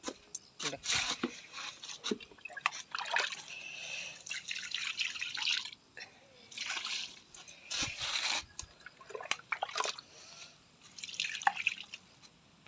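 Liquid cow dung slurry is poured over loosened soil in a home yard, giving bursts of wet splashing and dripping that come and go while a voice talks in between.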